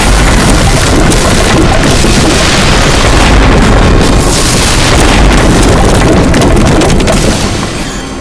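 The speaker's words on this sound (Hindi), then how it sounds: "और ये हुआ धमाका।" A loud, sustained roaring blast rumbles with heavy low-end for several seconds, then gradually tapers off near the end, with no voices.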